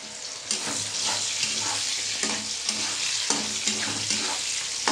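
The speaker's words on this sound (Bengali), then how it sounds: "তো দেখো বন্ধুরা, পটলগুলো সব থেতো করে নিচ্ছি।" Pointed gourds are pounded and crushed on a grinding stone in a steady rhythm of dull thuds and scrapes, roughly one stroke per second, over a continuous gritty hiss.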